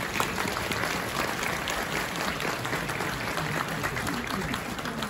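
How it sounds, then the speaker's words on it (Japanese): Sustained, dense applause from a crowd at the Setsubun festival at Yasaka Shrine in Kyoto, following a geisha dance offering, steady and full throughout with no pauses. "今一度盛大な拍手をお願いします。"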